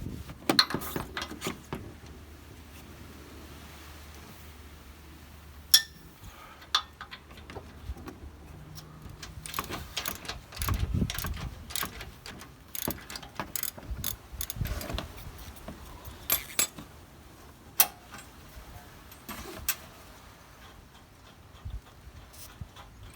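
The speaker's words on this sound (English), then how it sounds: "we're going to take off this bolt right here and this bolt right here with a 18mm socket." Ratchet with an 18mm socket working on upper control arm bolts during a JBA control arm and 2.5-inch level kit install, giving sparse, separate clicks and metallic knocks with quiet gaps between them.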